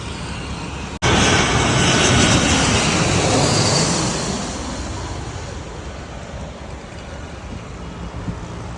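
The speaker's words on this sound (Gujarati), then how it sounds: "પ્લેન કેવું ગયું તું કેવું ઝૂમ" An airplane passes low overhead beside a busy road, a loud engine roar that comes in suddenly, holds, then slowly fades as it moves away.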